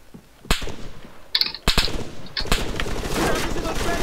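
Sharp individual shots ring out in an Arma 3 sector control match, several loud cracks in quick irregular succession followed by echoing tails and a sustained noisy rumble.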